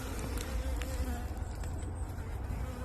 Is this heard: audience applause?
no